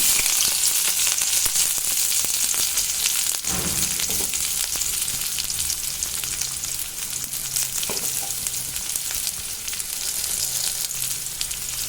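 Chopped onions hit hot oil in a pan after spluttering mustard seeds, setting off a steady, dense sizzle that runs unbroken throughout, with a few faint stirring scrapes partway through and no talking.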